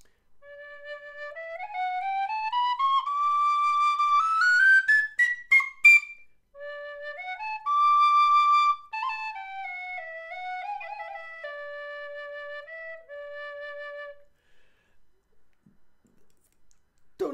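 Tony Dixon polymer tin whistle played alone and close, a clear pure tone rising in steps, dipping, then wavering back down in a simple melody, ending in short soft notes.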